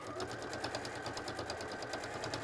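A modern sewing machine stitches fabric with a fast, even mechanical chatter, a steady rapid pulse of needle strokes at moderate, close level and no talking.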